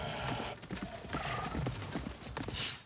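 Horse hooves clip-clop in a steady, close rhythm with a whinnying neigh mixed in, over a busy, fairly loud background.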